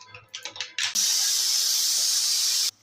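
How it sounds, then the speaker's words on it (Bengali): A pressure cooker holding vegetables for a chachchari lets out its whistle: a few short hissing puffs, then one loud sustained high-pitched jet of escaping steam lasting about two seconds before cutting off abruptly. "একটা সিটি বেজে গেছে"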